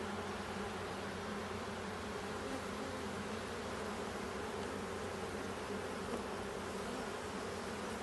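Honeybees swarm at an open beehive, making a dense, continuous buzzing drone that stays close and even throughout, with no voices.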